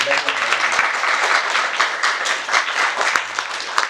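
Loud, dense audience applause at a religious opening ceremony in Quetta, Balochistan, with many hands clapping steadily and continuously throughout, a few sharper claps standing out near the front.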